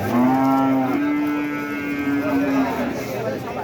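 A cow at a rural cattle market gives one long, loud, close moo lasting a couple of seconds, followed by a quieter trailing call, with market voices murmuring underneath.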